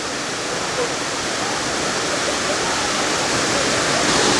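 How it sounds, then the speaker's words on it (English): Gooseberry Falls near Lake Superior pours in a dense, steady broadband roar, close and loud, with no change or pause throughout. "This is one of the best waterfalls I've seen on this trip."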